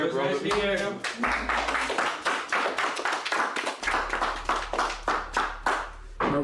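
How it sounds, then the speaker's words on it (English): A small group of people clapping nearby in a house, uneven bursts of hand claps that start, pause briefly, then continue steadily, with voices talking over them. "Why are people clapping?"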